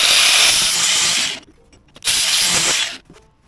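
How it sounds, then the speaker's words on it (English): Power tool cutting a ring from an air cleaner adaptor, two loud, harsh bursts of grinding with a brief quiet pause between them. "So I'm going to cut a little ring."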